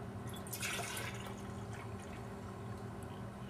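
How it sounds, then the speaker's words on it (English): Milk poured into a jar over kefir grains, a faint short liquid splash and trickle early on, then quiet room tone. "we're going to put in some more of our milk"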